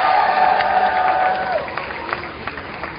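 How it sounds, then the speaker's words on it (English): Crowd at a Families Belong Together rally in Dallas applauds and cheers, a steady wash of clapping with raised voices and a sustained shout that fades midway, leaving scattered claps. "Can I get a round of applause for my mom and my daddy?"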